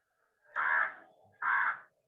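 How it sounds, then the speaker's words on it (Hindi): A crow gives two loud, drawn-out caws close by, about a second apart, with silence before and between. "म्यूट करो यार, कौवा बोल रहा है सर।"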